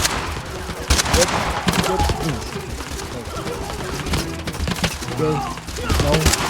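M16 and AK-47 fire in a shooting video game, with bursts of rapid gunshots crackling throughout while players talk over the action.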